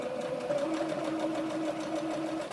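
A sewing machine stitches fabric for a cloth mask, running in a steady, fast, even whir with a rapid mechanical tapping, close and continuous throughout.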